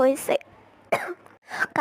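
A young person coughs a few times in short bursts, close and loud, with speech between the coughs.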